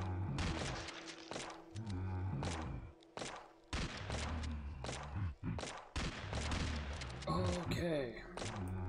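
Gunfire from the video game Chromosome Evil crackles in rapid bursts of loud shots and thuds, broken by brief pauses, with a voice talking over parts of it.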